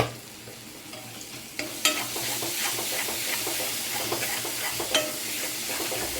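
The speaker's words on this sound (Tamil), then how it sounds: "ஒரு ரெண்டு நிமிஷம் தான் அந்த பச்சை வாசனை போகிற அளவுக்கு வதக்கி விட்டுக்கலாம்" Ginger garlic paste and green beans sautéing in a pan, with a steady frying sizzle and sharp scrapes from stirring that grow louder after the first second and a half, close and without speech.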